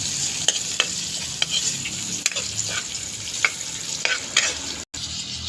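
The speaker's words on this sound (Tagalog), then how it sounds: "Yan, piniprito na po. Prito po natin yung dalagang bukid." Steady hissing sizzle of dalagang bukid (redbelly yellowtail fusilier) frying in a pan, with occasional light clicks and scrapes of stirring, no voices.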